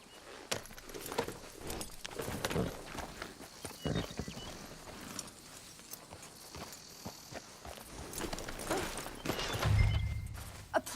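Horse hooves clip-clop at a walking pace in Red Dead Redemption 2, a run of soft, irregular hoof strikes over faint game ambience with no voices.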